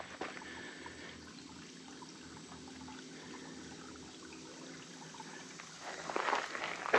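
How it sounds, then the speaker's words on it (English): A creek flows through a wooded draw along a gorge hiking trail, a soft, steady trickle that stays faint and even, with a brief louder rush of water near the end. "You can see and hear the water flowing."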